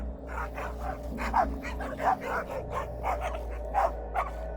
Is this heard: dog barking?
yes